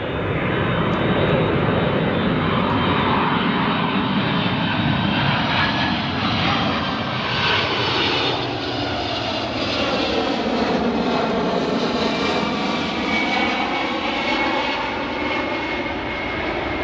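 A United Airlines jet in Star Alliance livery, arriving from London Heathrow, roars past at O'Hare International Airport, a loud continuous engine rumble and whine that sweeps in pitch as it passes.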